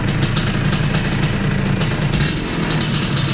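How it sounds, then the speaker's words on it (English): A 1975 Can-Am TNT 250 two-stroke motorcycle engine idles steadily nearby with a buzzy, rattling putter, holding a fairly even pitch throughout with no one talking. "Listen to that engine."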